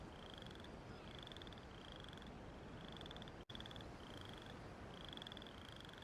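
Cartoon frogs croaking in a steady series of repeated calls over a dense hiss of background ambience, with a brief dropout midway and no talking.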